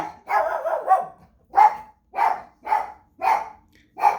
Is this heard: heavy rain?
no